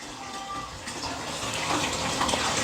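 An air hose bubbling in water on a simple homemade solar-powered oxygen setup, giving a steady, close, continuous gush and burble of water with no talking.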